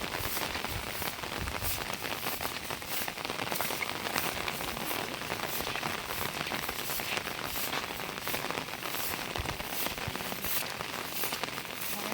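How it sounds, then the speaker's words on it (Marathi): Steady heavy rainfall drums on surfaces, a thick unbroken hiss with crackling drops, holding at an even loudness from start to finish. "पाऊस खूप आहे आज"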